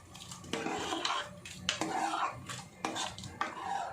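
A spoon stirs ragda chaat mixture in a cooking pot, scraping and clinking against the metal in repeated strokes, close and fairly loud, with no talking.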